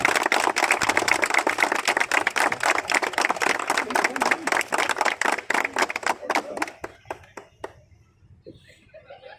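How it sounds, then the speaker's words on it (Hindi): An audience at a kabaddi league award ceremony applauds loudly with dense, sustained clapping that thins into scattered claps and fades out. "तालियां जरा जोरदार एक बार।"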